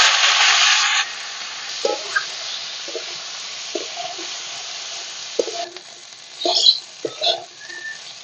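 Cauliflower and potato pieces drop into hot mustard oil seasoned with panch phoron and dried red chilli, setting off a loud sizzling burst for about a second, then fainter crackles and scattered clinks in the pan.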